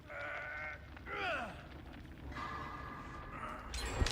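A goat bleats in a game setting, several wavering, nasal cries spaced across a few seconds over a steady low background rumble, with a brief brighter noise at the end.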